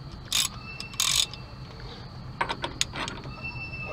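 A ball joint press is tightened on a 2003 Ford F150, producing a few bursts of ratcheting clicks and metallic turning sounds, close and moderately loud against quiet shop background.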